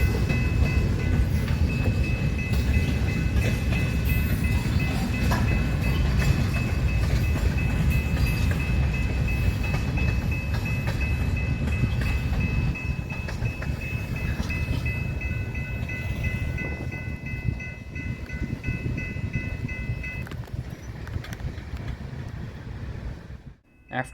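A long freight train rolls steadily past on a Nebraska rail line, a loud, continuous low rumble with wheel clatter and a sustained tonal squeal, fading toward the end as the last cars go by.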